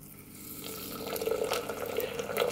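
Water is poured into a French press, a continuous splashing pour that builds steadily in loudness as the vessel fills, with no talking during it.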